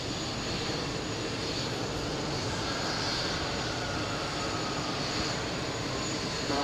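Jet airliner engines roaring steadily at JFK airport as planes taxi and line up for takeoff, a loud continuous rumble with a high whine, heard at moderate distance without talk.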